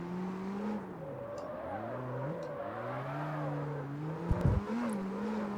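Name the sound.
car engine revving with pops in CarX Street video game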